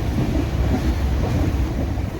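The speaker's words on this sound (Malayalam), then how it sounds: "നമ്മുടെ ട്രെയിൻ അങ്ങനെ മൂവ് ചെയ്യുകയാണ്" A passenger train running on the Kottayam to Kanniyakumari line, a loud continuous low rumble with rushing wind noise, heard close from inside the moving train with no voices.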